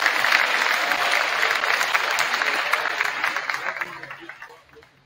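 Sustained applause from a high school basketball crowd honoring the senior players, a dense wash of clapping that stays loud for several seconds before thinning out at the end.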